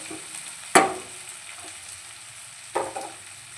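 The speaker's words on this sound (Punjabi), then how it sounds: "ਪਰਵਾਂ ਨੂੰ ਆਪਾਂ 5 ਮਿੰਟ ਦੇ ਕਰੀਬ ਢੱਕ ਕੇ ਪਕਾਵਾਂਗੇ" Parwal (pointed gourd) sabzi cooks in a pan with a low steady sizzle, broken by two louder scraping stir strokes, one early and one near the end.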